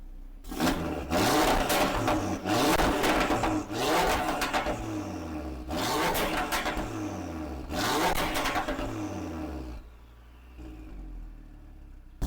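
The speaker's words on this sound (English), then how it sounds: "let's do a sound check on the car" An Audi RS3 engine revving hard in several bursts, each rising to a roar and falling back, before settling to a quieter idle.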